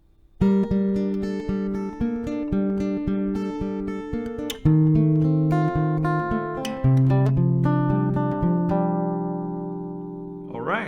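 A plucked acoustic guitar plays a quick melody of single notes from a song, ringing clearly and alone, ending on a sustained note.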